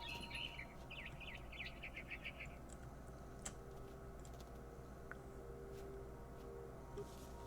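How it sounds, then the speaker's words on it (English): A bird chirps in the video game What Remains of Edith Finch, a few quick high tweets near the start over a quiet ambient game background with faint ticks, then fading. "Come here, birdie."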